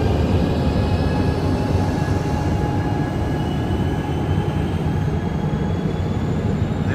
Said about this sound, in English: There go that train, folks.